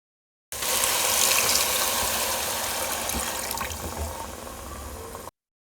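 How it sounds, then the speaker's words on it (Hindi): Water is poured steadily from glasses into a cooking pot of mung dal, a loud continuous splashing gush that runs for several seconds and then stops abruptly. "मैंने पानी ऐड कर लिया है, 2 गिलास पानी ऐड कर लिया है।"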